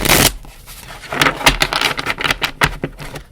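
Tarot cards are shuffled by hand at close range, short papery riffles and taps rattling in quick, uneven bursts over about three seconds.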